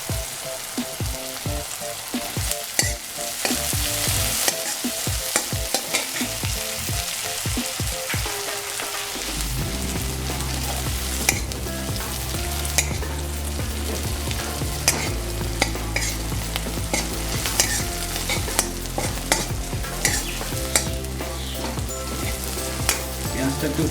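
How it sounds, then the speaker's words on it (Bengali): Onions sizzle and fry in a pan for a Bengali rohu fish curry, stirred with a spatula in steady scraping strokes, the hot oil crackling loudly and continuously from start to finish. "পেঁয়াজটাকে হালকা লাল ভেজে নেব।"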